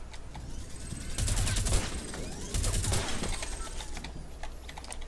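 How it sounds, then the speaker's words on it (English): Sniper gunfire during a video game, two loud cracking volleys with rapid rattling tails over steady background game noise, close and sharp, with no speech. "I'm getting sniped from somewhere."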